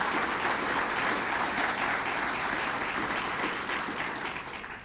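Sustained applause from a large crowd at a military change of command ceremony, a dense steady roar of clapping that eases off slightly toward the end.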